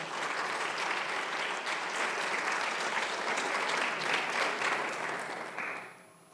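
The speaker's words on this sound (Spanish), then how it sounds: "Dale un aplauso al Señor." Sustained applause from a church congregation fills the room with dense, even clapping. The clapping stays loud throughout and fades away in the last second.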